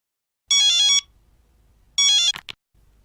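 Electronic telephone ringtone sounding in two bright, buzzy bursts about a second apart, loud and close, with a short clatter as it cuts off after the second ring and no talking.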